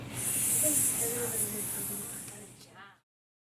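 A voice imitates an egg sizzling in a frying pan with a long, loud breathy hiss that slowly fades out and stops.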